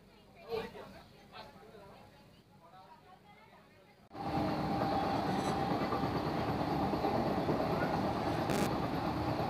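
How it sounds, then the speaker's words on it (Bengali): Kolkata's first AC local train, on its inaugural Sealdah to Ranaghat run, rolls at speed with a loud, steady rumble and rattle that takes over midway, after a quieter stretch of crowd chatter inside the carriage. "তো বন্ধুরা আমাদের ট্রেন কিন্তু বেশ ভালোই এখন গতি নিয়ে নিয়েছে।"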